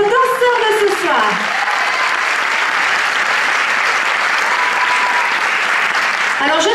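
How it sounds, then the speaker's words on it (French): A dance-show audience applauds a dancer with steady, loud clapping throughout, with faint voices at the edges. "On l'applaudit encore."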